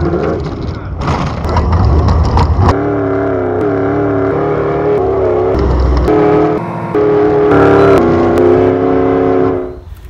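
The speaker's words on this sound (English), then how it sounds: "This is a 1968 Ford Bronco that we call the Devil Horse" A 1968 Ford Bronco engine runs close and loud with a steady droning tone that shifts pitch as it revs, briefly dips, then surges again before cutting off at the end.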